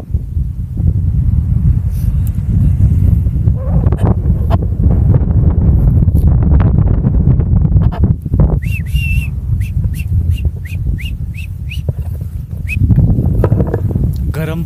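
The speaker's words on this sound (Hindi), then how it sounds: "क्योंकि हवा चल रही है बहुत तेज।" Strong wind buffets the microphone with a constant low roar throughout on the Kheerganga trek, while a voice talks over it and faint high whistling chirps come in near the end.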